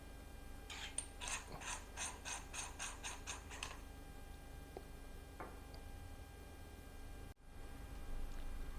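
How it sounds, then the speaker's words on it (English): Faint, quick ratcheting clicks come from a MHW-3Bomber Racing M1 manual coffee grinder as its outer burr is twisted loose, about a dozen evenly spaced ticks in a short run, then a couple of isolated clicks. "Turn clockwise to unscrew the outer burr."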